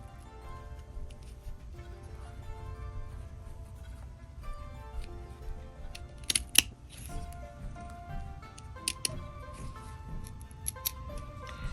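Scissors snip through soft felt fabric while a small felt tree shape is cut for a simple gift card wallet craft, giving a run of close, quiet crisp snips with a few sharper clicks and no talking.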